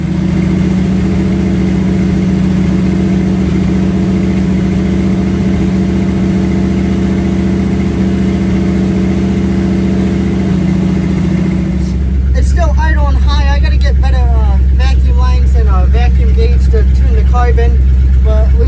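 A Mopar 360 V8 fitted with an Edelbrock 1906 carburetor runs at a loud, steady idle, its low hum continuous throughout; partway through, a person's voice starts talking over the engine noise.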